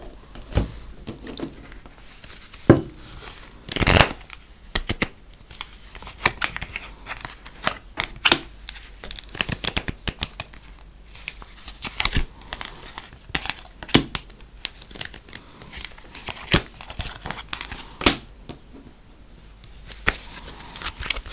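Oracle cards being shuffled and laid out on a surface in a tarot-style reading: irregular close snaps, taps and riffles in scattered bursts with quiet gaps between, no voice heard.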